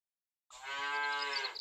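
A cartoon cow moos once in the video game Super Auto Pets, a single drawn-out bovine call after a short silence, clear and close with no talk.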